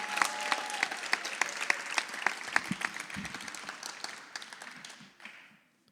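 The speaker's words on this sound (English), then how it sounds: "another round of applause for all our winners tonight" An audience applauds award winners at a Rising Stars ceremony, a dense, even clapping that holds steady for several seconds, then thins and fades to silence near the end.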